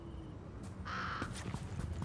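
A legendary bird in the Fortnite video game gives a single harsh caw, moderately loud and close, alone over quiet game background.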